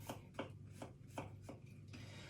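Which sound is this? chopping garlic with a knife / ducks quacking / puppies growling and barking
chopping garlic with a knife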